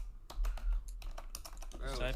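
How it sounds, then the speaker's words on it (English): Rapid computer keyboard typing during an online typing race, dense irregular key clatter throughout, with a voice talking over it near the end. "He's doing the typing test."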